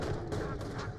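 Gunfire from the video game Borderlands the Pre-Sequel crackles in dense, rapid bursts that keep up a loud barrage throughout.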